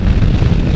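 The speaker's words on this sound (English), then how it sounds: "I wish you guys could feel the wind that is hitting me right now." Strong gusts of wind batter the microphone outdoors during a ride, producing a continuous, heavy, close rumble with no voices.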